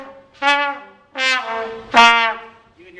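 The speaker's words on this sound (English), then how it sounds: "rather than using their tongue to start the sound, they use their throat" Three short brass notes on a trumpet in a school band setting, each started with the throat instead of the tongue, so the attacks sound breathy and soft, and each note swells and fades.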